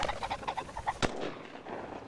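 A pheasant flushes with rapid wingbeats and cackling calls, cut off by a single sharp, close shotgun blast, followed by a faint rustling tail.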